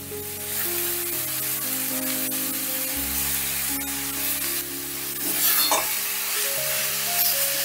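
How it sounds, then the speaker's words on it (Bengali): Grated cabbage sizzles and is stirred in a hot pan with asafoetida while the filling for a cabbage paratha is made. The frying is steady and close, with scraping stirs over it and a steady musical tone underneath. "বাঁধাকপিটাও হালকা করে একটু ভাজা ভাজা করে নেব"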